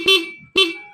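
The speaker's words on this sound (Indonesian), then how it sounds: "Klakson nyala" A motorcycle horn sounds in two short, loud blasts about half a second apart, each a bright harmonic beep heard alone after repair of a shorted switch.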